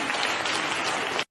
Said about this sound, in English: The cheering from the crowd is the most disgusting part of this right here.